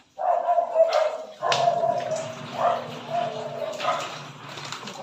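Dogs bark and yip in short bursts, with some whimpering between them, fairly close and fairly loud, over a faint background hum.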